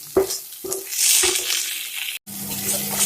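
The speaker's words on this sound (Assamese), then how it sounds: "আৰু 2 মিনিট সময়মান ভাজিলেই হ'ব।" Muri ghonto being stir-fried in a pan, with a few sharp spatula scrapes and clanks against the pan over a steady, close sizzle.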